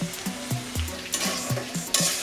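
Green jackfruit sautéing with salt, turmeric and ginger paste in a pan, a steady sizzle broken by repeated rhythmic scrapes of a spatula, close up.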